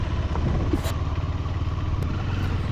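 A motorcycle rides an off-road track of rocky ground from a house to a main road, a steady low engine rumble with rattling clatter, fairly close and continuous.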